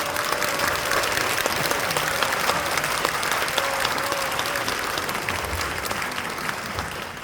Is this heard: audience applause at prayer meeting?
yes